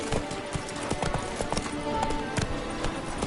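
Horse galloping in The Witcher 3, rapid rhythmic hoof clip-clop thudding steadily and close throughout, with game ambience beneath.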